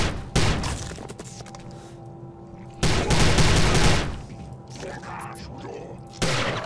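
Gunfire in the video game Prey comes as loud, sudden bursts of shots and impacts in three separate volleys, each with a sharp onset, amid dense in-game noise, and a voice is faintly present.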